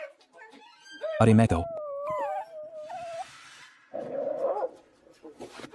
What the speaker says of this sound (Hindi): ये कुत्ता।